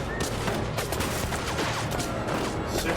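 Dense, continuous gunfire from many weapons crackles throughout a scene in the video game 1979 Revolution: Black Friday, loud and close with overlapping rapid shots and no clear pauses.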